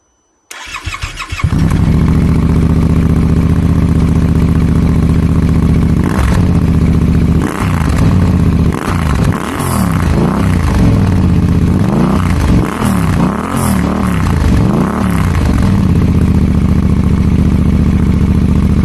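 A 2025 Yamaha Tenere 700 motorcycle with new headers, aftermarket muffler and NiceCNC airbox cranks and catches, then idles loudly with a deep, throaty rumble, punctuated by several sharp revs rising and falling.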